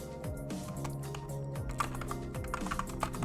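Loud, close computer keyboard typing, a rapid continuous clatter of keystrokes running alone over a faint background hum.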